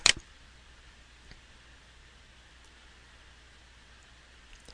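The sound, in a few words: computer mouse click on a web page tab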